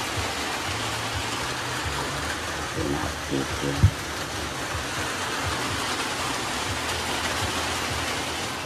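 Afternoon rain falling steadily as a broad hiss, with children talking and a low engine hum underneath and one brief knock partway through.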